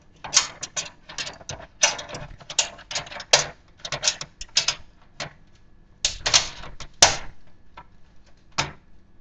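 Motherboard being set into a home office computer case on standoffs, with a series of close, sharp clicks, taps and rattling knocks in irregular bursts and short pauses between them.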